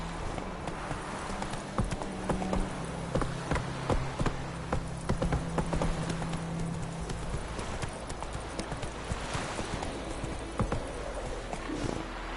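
Roach, the horse in The Witcher 3, gallops in a steady rapid clip-clop of hooves, close and continuous over low ambient game sound.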